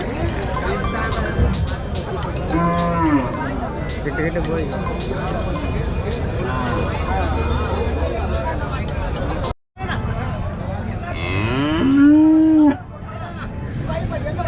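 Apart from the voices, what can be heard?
cattle mooing at market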